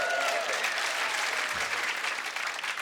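A comedy club audience claps loudly and steadily, a dense wash of many hands continuing without a break and easing slightly near the end.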